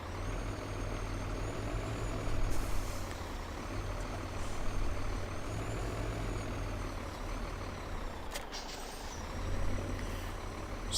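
A heavy truck maneuvering in Farming Simulator 17 rumbles with a steady low diesel drone, brief air-brake hisses and faint reversing beeps, all fairly close.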